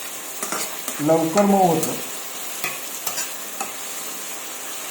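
Tomatoes and salt fry with onion in a hot pan while being stirred, giving soft sizzling and scraping stir strokes; someone speaks briefly over the cooking.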